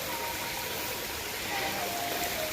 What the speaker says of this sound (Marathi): इथून पाण्याचा फ्लो आहे आणि इकडे धबधबा तयार होतो छोटासा